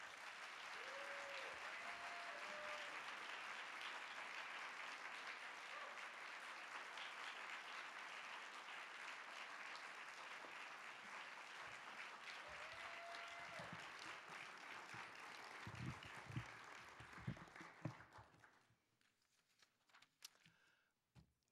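An audience at the 2013 NCA Annual Convention applauds to welcome a speaker to the stage. Dense, sustained clapping fills a large hall, then thins into scattered claps and fades away near the end.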